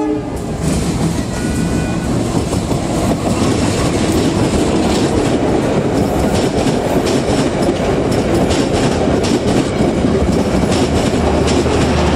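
Serayu Pagi passenger train rolling through Cibatu station in Indonesia, a loud, continuous close-up roar of wheels and carriages with steady rumble and rail clatter throughout, and a brief horn-like tone early on.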